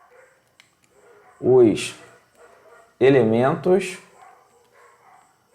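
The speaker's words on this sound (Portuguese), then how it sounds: "eu vou pedir desculpa a vocês por conta dos cachorros, tá? Que estão bastante alvoroçados aqui na rua." Agitated street dogs let out two short bursts of barking a moment apart, loud and close, while someone speaks Portuguese between them.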